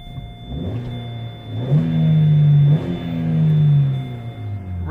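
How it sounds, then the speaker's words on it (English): A Vauxhall Corsa D 1.4 engine revs up twice in quick succession, the pitch rising and holding before dropping back, loud and close. "Let's just give it a few revs, make sure he revs okay."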